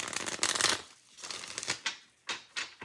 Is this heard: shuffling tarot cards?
yes